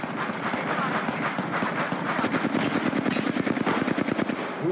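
Rapid automatic gunfire from an enemy in Apex Legends, a continuous rattling burst of evenly spaced shots running the whole stretch at close range, with faint talk underneath.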